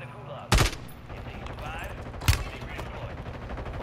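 Two separate loud gunshots about two seconds apart in a first-person shooter game, sharp cracks standing out over a low background rumble of game sound.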